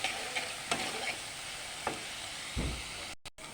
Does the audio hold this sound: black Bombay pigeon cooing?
no